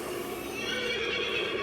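A Home Depot Knight Dullahan Halloween prop horse lets out a loud, sustained electronic neigh, a wavering whinny that fills the short moment alone.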